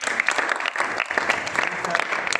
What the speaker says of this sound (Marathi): आता सर्वांच्या वतीने आम्ही टाळ्या वाजवून यांचा आम्ही धन्यवाद व्यक्त करतो.